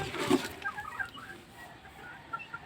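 A large hen clucks softly while straining to lay an egg, with low, intermittent clucks and murmurs close by over a faint background hiss.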